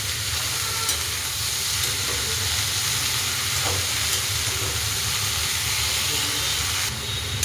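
Shredded cabbage frying in a pan while being stirred, a steady loud sizzle and hiss running throughout with faint scraping, no talking.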